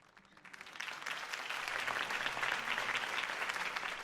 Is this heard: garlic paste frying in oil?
no